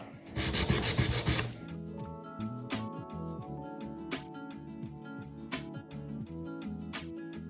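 A nail file worked back and forth over a gel nail to even the surface, a close, steady rhythmic rasping after a brief burst of louder noise at the start.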